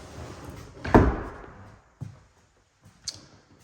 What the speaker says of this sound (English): closing this door, it kind of hits the floor, so the door needs to be shaved down